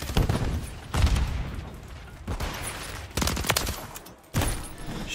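Video game gunfire from Modern Warfare 3 comes in repeated loud bursts of automatic fire separated by short pauses, close and dense, with no talking.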